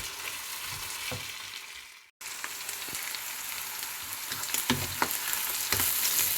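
Garlic and ginger prawns stir-fried in a pan give a steady close sizzle, with scattered utensil scrapes and taps, a brief dropout near the start, and no talking.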